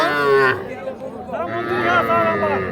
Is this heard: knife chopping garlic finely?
no